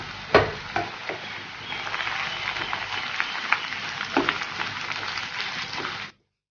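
Flattened rice (aval) deep-frying in hot oil for a homemade Kerala mixture, a steady close crackling sizzle with a sharp burst at the start and scattered pops throughout, no voices.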